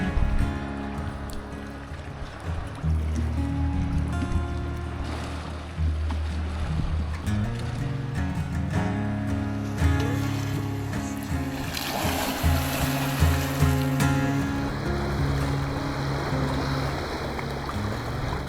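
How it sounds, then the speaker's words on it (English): Sea waves rolling onto a shore in Greece, a steady broadband wash with recurring surges, loud and close, alongside a droning low hum and no talking. "Can you hear that sound of the waves?"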